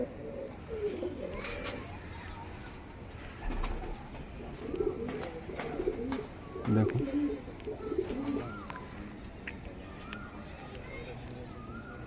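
Pigeons offered for sale, including eye-quality males, coo in low repeated murmurs close by, with bird calls around and someone talking over them throughout, children faintly in the background.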